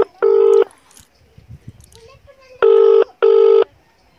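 A telephone number is dialed on a keypad: three loud, clean electronic beeps, one alone and then a quick pair, with quiet background murmur between them.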